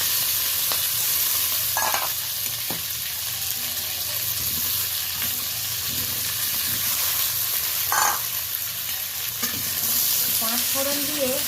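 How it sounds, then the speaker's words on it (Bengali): Potatoes and drumsticks fry in a little oil tempered with panch phoron, a dense continuous sizzle with steamy hiss, interrupted by several short clinks and scrapes as the pan is stirred. "ফোড়ন দিয়ে হালকা করে একটু ভেজে নেব আলু আর সজনে ডাঁটা।"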